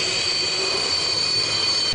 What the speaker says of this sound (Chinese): 数架歼15舰载战斗机呼啸升空